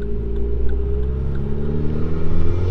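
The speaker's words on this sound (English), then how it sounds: "That induction noise is good." Induction noise from a modified Vauxhall VXR small engine while driving, a steady close rumbling drone with slight swells as the throttle is eased, heard from inside the car without talking.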